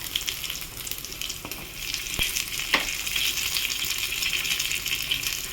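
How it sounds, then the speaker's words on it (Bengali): Black cumin seeds and garlic fry in hot oil with a steady, close sizzle and crackle that runs throughout, broken by a few sharp clinks of a spoon against the pan. "কালো জিরেটা ভাজা হয়ে যাক ভালো করে।"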